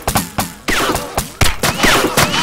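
Rapid bursts of gunfire from the military shooter game ArmA 2 with the ACE mod, a string of sharp, loud shots in quick succession with short gaps, no talking.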